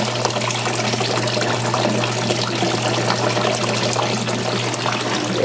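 Water is drawn through small holes into a perforated aquaponics pipe in a New York City apartment grow bed, making a continuous close gurgling, pouring rush at steady loudness.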